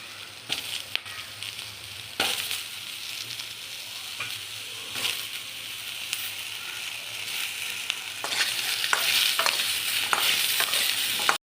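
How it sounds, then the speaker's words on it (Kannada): Ginger, cinnamon, cloves, pepper and tomato frying in a pan, giving a continuous sizzle that grows louder toward the end, broken by sharp clicks and scrapes of stirring. "ಇದು ಸ್ವಲ್ಪ ಫ್ರೈ ಆಗಲಿ ಚೆನ್ನಾಗಿ ಫ್ರೈ ಆಗ್ತಾಯಿದೆ"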